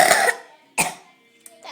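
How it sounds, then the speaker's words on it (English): Two sharp, close coughs from one person a moment apart, then a faint short one, each a harsh burst of breath alone with no talk. "That was a cough."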